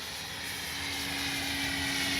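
An E-flite SNJ-5 Texan RC model airplane drones past with its electric motor and propeller whining, steady and fairly close, growing slightly louder, with flaps down.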